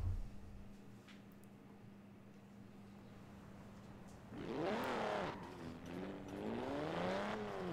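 An Alfa Romeo engine in Forza Horizon 4 rises at a modest level about halfway through, climbing and dipping in pitch like revving, after a quiet stretch with a low steady hum.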